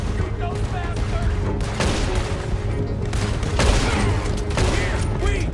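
Video game gunfire during a stagecoach robbery, with dense bursts of shots and booms running continuously under a loud game soundtrack, voices shouting over it.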